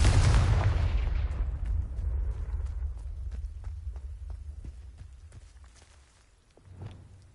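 Fiery Confringo spell blast in Hogwarts Legacy, a loud booming burst at the start that rumbles and fades over several seconds, with scattered sharp crackles and a smaller thud near the end.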